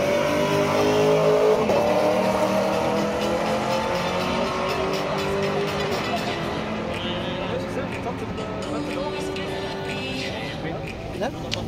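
A stock Honda Civic revs hard against its rev limiter during a burnout, the engine roaring loud and close under crowd noise and shouting, with a brief squeal of tires.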